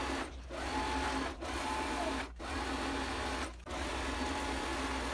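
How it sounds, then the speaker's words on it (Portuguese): A sewing machine stitches along the edge of a waterproof fabric backpack, running steadily and close by in several bursts separated by brief pauses, with no talking. "Pronto, costurei toda a borda da minha mochila"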